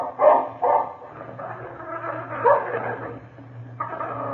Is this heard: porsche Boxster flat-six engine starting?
no